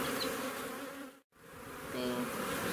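Honeybees hum in a dense, continuous drone inside an open hive with the queen present during a hive inspection, close and steady, with a brief dip midway.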